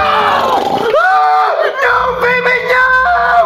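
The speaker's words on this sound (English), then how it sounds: "I heard you scream." A boy's loud, sustained screams and yells, as if woken from a nightmare, ring out with wavering pitch and strained, harsh tone, filling the whole moment at close range without pause.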